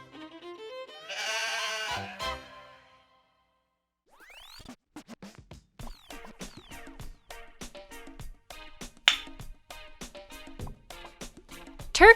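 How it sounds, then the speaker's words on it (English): A farm goat bleats in a long wavering call, then after a pause comes a stretch of scratchy rustling and clicking, with fainter bleating sounds mixed in, fairly close. "Goat."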